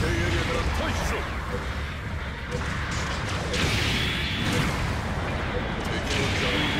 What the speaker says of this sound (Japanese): 後方部隊からの砲撃が来た。